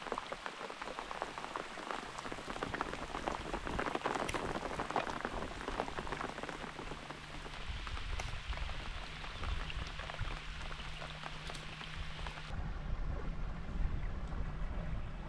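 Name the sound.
summer rain falling on river water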